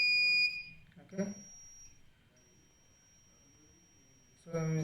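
Arduino buzzer wired to a flame sensor, a high, steady electronic tone sounding at the start and cutting off, followed by quiet room noise and brief speech.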